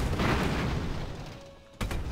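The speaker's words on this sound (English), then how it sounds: "but I can hear explosions to the left" Explosions from the airship strategy game Airships: Conquer the Skies, a dense run of booming blasts that fades over the first second and a half, then one sharp new burst near the end.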